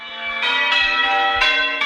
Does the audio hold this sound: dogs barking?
no